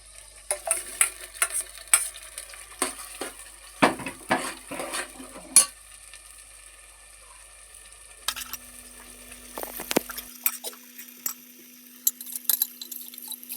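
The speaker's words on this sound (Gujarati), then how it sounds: "અને હવે નાખી દેવાના છે વટોણા" Peas tipped into a frying pan for kaju paneer and stirred, with bursts of loud clattering and scraping of a spoon against metal, brief quieter gaps, and a light sizzle throughout.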